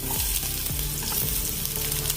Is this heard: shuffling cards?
no